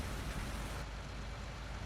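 Steady rain in the Farming Simulator video game, a dense constant hiss of falling drops with no breaks, fairly loud and even throughout, no talking.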